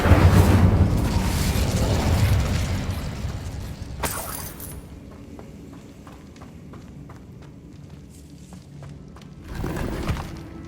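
Incendio fire spell cast in Hogwarts Legacy, a loud roaring, crackling whoosh of flame that fades, followed by a sharp burst and scattered lighter impact sounds, with a second swelling rush near the end.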